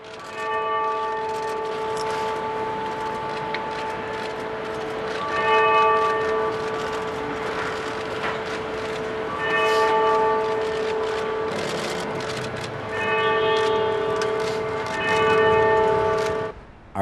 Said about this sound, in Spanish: La campana recuerda el lugar y momento del gran tsunami